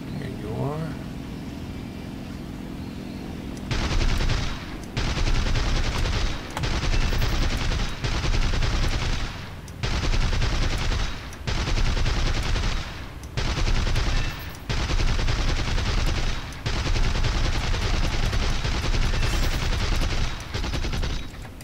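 Sustained machine gun fire aimed at an H6K flying boat in the War Thunder video game, arriving in repeated loud bursts separated by short gaps, with an aircraft engine droning steadily underneath.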